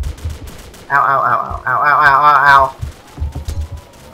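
An M21 rifle fires from the hip in the ROTU video game, with sharp, rapid shots at the start and end and a loud voice crying out in pain between them.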